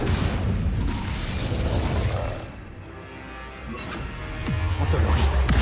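In Hogwarts Legacy, an Incendio fire spell bursts out in a deep rumbling boom and whoosh that dips and then swells again, with other game effects underneath.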